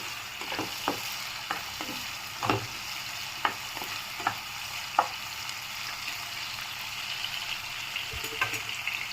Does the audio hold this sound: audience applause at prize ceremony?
no